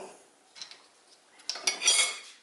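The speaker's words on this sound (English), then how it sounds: "Stir that in." A spoon stirs vanilla essence into biscuit dough in a bowl, producing faint scrapes and light clinks that build into a louder, denser stretch of scraping near the end.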